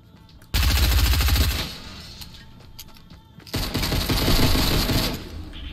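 Rapid automatic gunfire in the video game Fortnite, loud and close, in two long bursts separated by a quieter stretch of scattered shots.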